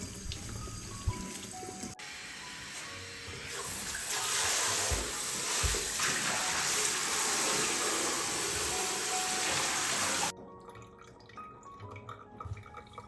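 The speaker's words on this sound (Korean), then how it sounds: "물이 줄줄 새네요" Water trickles and drips from an old butter churn, unused for over ten years, after sterilizing it with hot water. A steady, moderately loud hiss of running water rises midway, then drops away to faint drips.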